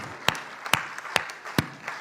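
Audience claps at a poetry recitation, coming as sharp, evenly spaced bursts about every half second, like a steady rhythmic clap rather than a dense ovation.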